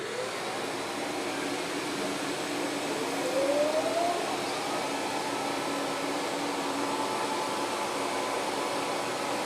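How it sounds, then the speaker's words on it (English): A vacuum on a floor burnisher whirs steadily and continuously, a broad even roar with a faint rising whine, running on its own with no talk. "I guess I could turn the vacuum on."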